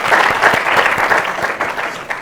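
An audience at a school talent event applauding, dense steady clapping from a crowd throughout, close and loud, easing slightly toward the end.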